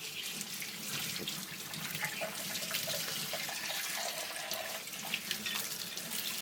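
Water from a tap runs steadily and close by as a silicone part of a Kuvings Auto10 Plus slow juicer is rinsed under it in a sink, a continuous splashing hiss with no talk.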